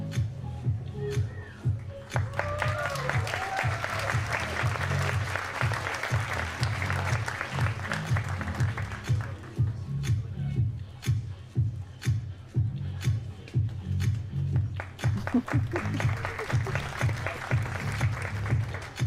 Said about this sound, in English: People are like filling up the dead time with the clapping.